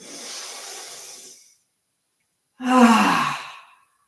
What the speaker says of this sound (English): Full cleansing breath again.